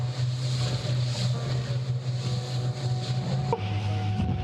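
Boat motoring into strong wind and heavy swell at sea, a steady low engine drone with constant wind and water rush, loud and continuous throughout.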